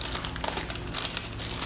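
Close crinkling of a plastic bag of cranberries with quick scissor snipping and rustling as it is cut open.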